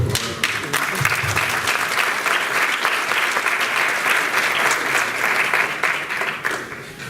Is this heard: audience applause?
yes